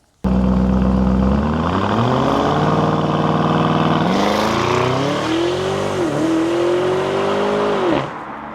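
Lamborghini Urus engine starts with a sudden loud burst, then holds a deep, steady rumble that rises through several revs and falls before the sound drops away, close by with no talk.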